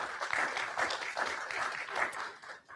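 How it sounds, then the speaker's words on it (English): Scattered applause from the audience at a school board meeting, moderately loud and steady for a few seconds before thinning out. "You can applaud for them too."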